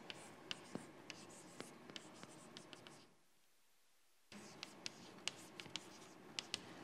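Writing a math expression by hand, likely chalk or pen on a board during a lecture: steady scratchy strokes with sharp taps, broken by a brief silent pause before the strokes resume, close and quiet.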